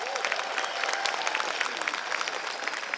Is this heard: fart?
no